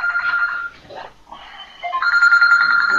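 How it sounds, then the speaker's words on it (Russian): A telephone rings with a loud electronic tone that pauses briefly and then resumes, close by, with no talk. "наверное, мама звонит."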